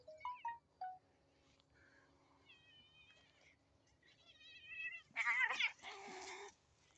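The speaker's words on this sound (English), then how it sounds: "Crazy cat." A cat meows repeatedly outdoors on a rural Missouri property, a series of short rising calls building into a louder, drawn-out yowl near the end, with birdsong in the background.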